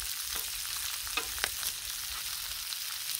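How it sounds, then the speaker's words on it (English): Bacon strips frying on a Blackstone flat-top griddle, a steady close crackling sizzle with a few sharp pops and no voices. "not all bacon cooks evenly."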